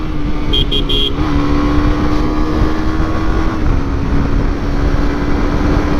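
Suzuki GSX-R motorcycle ridden fast in fourth gear, a loud sustained engine drone holding a steady pitch, with rushing wind and a brief beeping tone near the start.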